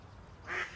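A duck gives a single short quack at a distance, faint and brief against a quiet outdoor background of low rumble.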